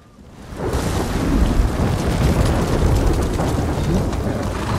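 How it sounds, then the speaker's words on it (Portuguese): A thunderstorm rolls through in Ghost of Tsushima: a loud, sustained, rumbling roar of thunder and rain swells in within the first second and stays heavy and dense throughout. "Moleque, os raios."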